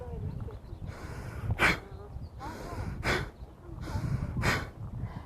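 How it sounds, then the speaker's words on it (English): Three sharp, explosive exhales through the nose, each preceded by a slower deep inhale, during a breathing exercise; close, loud bursts at steady intervals with no talking. "deep inhales and then an explosive exhale coming from the lower belly"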